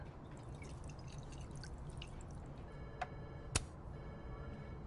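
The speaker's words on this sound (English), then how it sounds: "pouring whiskey into your coffee?" Whiskey is poured into coffee in Life is Strange: Double Exposure: a faint, steady trickle of liquid sits under room noise, broken near the end by a couple of soft clinks and ticks, with no speech.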